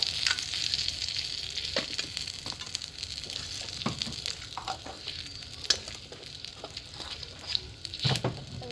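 White cumin seeds and bay leaves sizzle steadily in hot oil in a pan, a close, continuous fizzing hiss with light pops and occasional stirring clinks.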